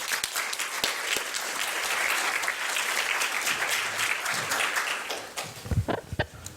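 An audience at a public health presentation applauds as a speaker comes to the podium, steady dense clapping that thins out and ends in a few scattered claps.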